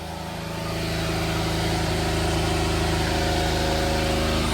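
The engine of a Daihatsu HiJet with a fuel leak hums in a steady, rising drone as it pulls away and accelerates, swelling in the first second and then holding loud and even.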